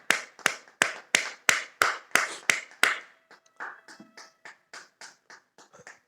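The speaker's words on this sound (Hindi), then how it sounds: "तालियों को बजाते रहें" A group claps hands in time during an exercise session: about nine sharp, evenly spaced claps, then a softer, quicker run of lighter claps, close and clear with no talk.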